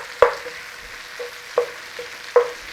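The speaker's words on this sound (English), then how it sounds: "there's still a little bit of bacon grease in there, look, going in with some butter" Butter going into a pan with leftover bacon grease, heard as a low steady sizzle broken by a few sharp stirring or scraping knocks at uneven intervals, with no talking.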